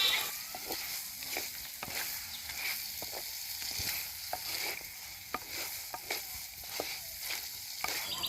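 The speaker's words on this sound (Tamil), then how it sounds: "தேவையான அளவு எண்ணெய் ஊற்றி நல்லா வறுவல் செஞ்சு எடுத்துக்கிறேன்." Field crab frying in oil in a pan for a spicy crab fry, with a steady bright sizzle and crackle broken by repeated stirring scrapes and taps, close and continuous with no talk.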